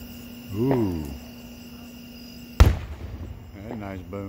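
A single loud firework explosion during Labor Day neighborhood fireworks in Speedway, Indiana: one sharp boom that fades over a second, with insects chirping steadily and brief voices before and after.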